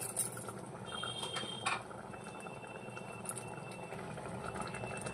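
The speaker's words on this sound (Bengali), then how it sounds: "ডালটা 5 মিনিট ফুটে গেলে" Dal with kasuri methi and garam masala bubbles in a pot, a faint, steady simmering burble with a few light clinks near the start.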